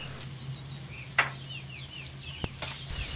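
Green chili ginger paste and turmeric are stirred into a frying pan with onions, making a low steady sizzle broken by a few sharp spoon scrapes and clinks.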